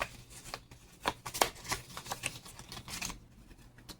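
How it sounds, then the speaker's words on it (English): Cardstock playing cards from a board-game deck being shuffled by hand, a run of crisp riffling bursts and soft slaps over about three seconds, close and moderately loud, with no talking. "So we're going to shuffle these up."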